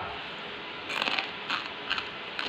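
Several crisp crunching bites of hot fried okra, close up, in a short uneven series of three or four crackly bursts over a quiet background.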